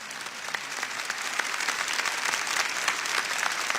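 Church audience giving warm applause to welcome speakers, steady crowd clapping that swells slightly and continues throughout, fairly near and unaccompanied by talk.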